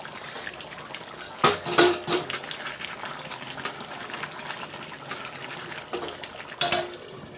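Hot water is added to a mutton curry in the pot, giving a soft, watery pour with a few louder splashes and clinks of the pan. No voice is heard.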